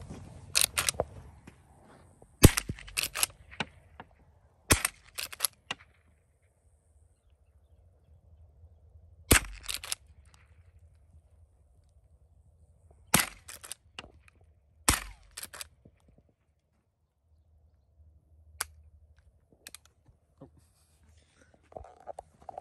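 A Marlin Model 1897 .22 lever-action rifle fires Aguila Super Extra jacketed rounds, about ten sharp, fairly close reports spaced irregularly over a quiet stretch, with faint handling noise between shots.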